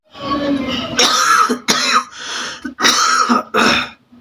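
Several harsh, chesty coughs in quick bursts, close and loud, with short pauses and throat clearing between them.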